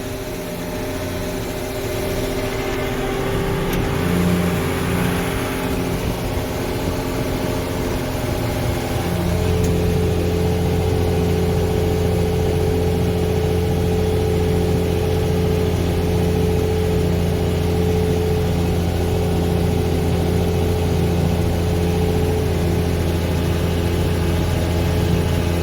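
Tractor engine plowing a field in first gear drones at a steady low pitch, loud and close, with a slight shift in tone partway through and no speech.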